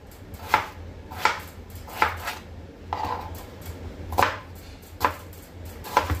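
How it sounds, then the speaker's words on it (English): A knife chops potato finely on a board for Mumbai khada pav bhaji, with sharp, evenly spaced cuts about once a second, close and distinct over a quiet low hum. "I'm going to cut it really fine"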